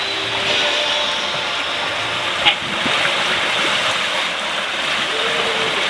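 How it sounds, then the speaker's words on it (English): Steady rush of wind and wave wash around a sailing catamaran running downwind in a 7-knot breeze at sea, a continuous broad hiss with one brief knock partway through. "Running with the waves and the wind"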